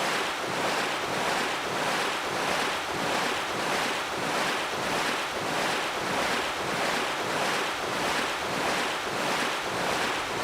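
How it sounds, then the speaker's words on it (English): Loud ocean surf from the video game Rune Factory: Tides of Destiny, a steady, dense wash of breaking waves that swells and ebbs in a regular rhythm, with a windy hiss throughout and no voices. "The ocean's so loud."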